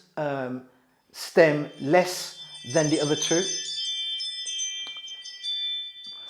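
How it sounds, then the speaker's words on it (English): A home doorbell chimes in a series of bright, sustained ringing tones that linger and decay after a man's speech. Talk continues as the ringing fades. "That's my doorbell."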